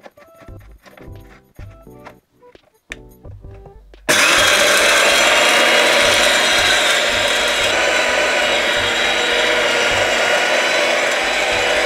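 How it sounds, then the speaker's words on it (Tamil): A small home mini mill for grinding roasted grains and pulses switches on after a few seconds of clattering and handling, then runs with a loud, steady, dense grinding roar that continues to the end. "இந்த வறுத்த பொருட்கள் எல்லாத்தையும் மிக்ஸ் பண்ணி என்னோட மினி மில்லில் அரைக்க போகிறேன்"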